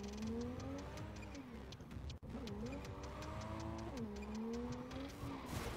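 Engine drone of a car in Cyberpunk 2077 pitching up and down as it accelerates and corners, steady and close, with a sharp break midway and a burst of tire skid noise near the end; no talking.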